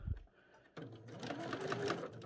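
A sewing machine stitches a bodice lining, starting after a brief pause and then running in a steady close whir that holds to the end, loud and alone.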